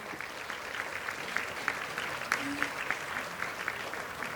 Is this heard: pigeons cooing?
no